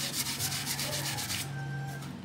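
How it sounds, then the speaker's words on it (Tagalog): Steady, rhythmic rubbing strokes as a stainless steel motorcycle exhaust pipe is polished to remove heat stains, close and fairly loud, ending with a smoother scraping sweep. "Pahiran nyo lang ng pahiran hanggang sa mga kumintab ng kumintab."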